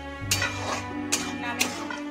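A spoon stirs potol posto, pointed gourd with poppy seed paste, in a pan, making three distinct scraping strokes at an even pace over a low background hum.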